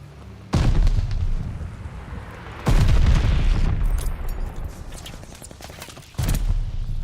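Heavy bombing-run explosions in Call of Duty Vanguard boom repeatedly, three loud deep blasts with rumbling tails and scattered crackle between them.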